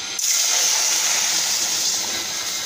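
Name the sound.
water poured into pan of roasted spices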